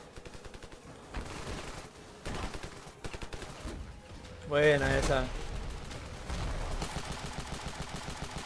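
Gunfire in the Ravenfield video game, bursts of rapid automatic shots and single cracks repeating across the scene with one heavier blast midway, while someone talks over it.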